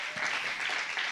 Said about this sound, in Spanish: aplaude al Señor si tú crees esto